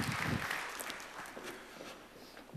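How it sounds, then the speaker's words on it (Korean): Congregation applause during a church youth worship service, a soft, diffuse patter of many hands that starts fuller and gradually thins and fades. "하나님께 영광의 박수 함께 올려드리겠습니다."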